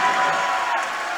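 A crowd at a high school volleyball match claps and cheers in a brief, steady burst of applause heard from within the gym.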